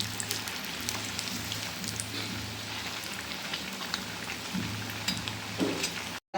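Potato bondas frying in oil over a medium flame, a steady close sizzle and crackle running throughout with no talk, then a sudden cutoff at the very end.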